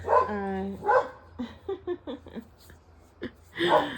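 A dog barks several times in short, sharp bursts close by, with a low steady hum underneath.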